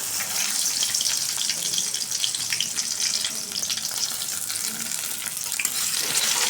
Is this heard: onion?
yes